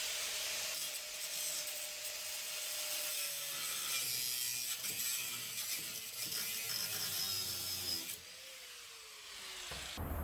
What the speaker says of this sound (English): I got just a little bit to go with the oscillating tool.